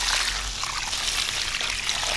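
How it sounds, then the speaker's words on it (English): Water drains out of the bottom of a plant pot while a potted parfianka pomegranate is watered, a steady splashing trickle with a bright hissing edge, close and continuous without any voices. "It's going to run out the bottom, that's fine."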